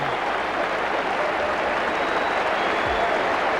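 A cricket crowd applauds a catch at a Test match with sustained, even clapping from a large, distant mass of spectators, with no talk.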